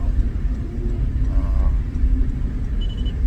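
A repaired pickup truck engine runs at a steady idle, producing a continuous low rumble close by that holds even throughout, with no one talking.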